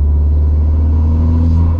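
A tuned Volkswagen Golf 6R of about 400 hp with a six-speed manual gearbox, driving, gives a loud, steady, deep engine drone throughout, close and unbroken, with no voices.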